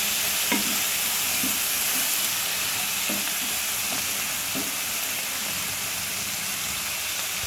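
Frying food sizzles in a pan as mustard paste is stirred in, a steady close hiss broken by a few soft scraping stir strokes, with no talking.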